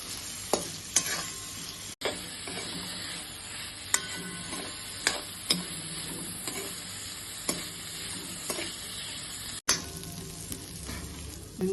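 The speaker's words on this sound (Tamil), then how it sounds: "வெங்காயம் பொன்னிறம் ஆற வரைக்கும் இதை வதக்கணும்." Onions seasoned with salt sautéing in a pan for tomato onion chutney, a steady close sizzle with frequent stirring scrapes and spatula clicks throughout, no voices.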